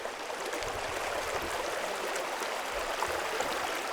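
Clear, chilly brook water flows over stones in a shallow stream below a small wall, a steady, soft rushing wash with faint gurgles, heard alone without talk.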